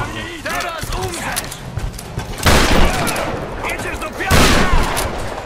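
Gunfire in the Tomb Raider video game comes as a few sharp blasts and bursts, with two heavy booming shots standing out, while someone talks excitedly over the action.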